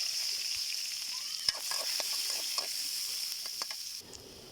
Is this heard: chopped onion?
yes